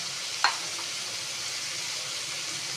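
Chili oil sizzling steadily in a pan, a constant close frying hiss with one brief clink near the start and no voices.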